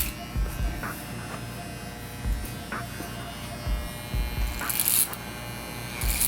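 Electric hair clippers buzz steadily through a bald skin fade with a part, the motor drone running throughout with brief rises as the blade texturizes the hair, up close, with occasional low handling bumps.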